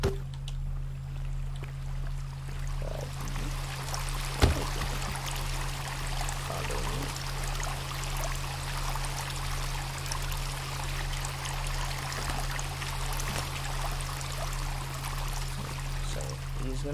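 River water flows in the video game Sons Of The Forest, a steady, continuous rushing and trickling that stays even throughout, with a low hum underneath and one sharp click early on.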